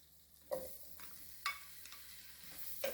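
Chopped white onion tossed and stirred in a hot pan, a faint sizzle broken by a few sharp scraping clatters of the utensil against the pan.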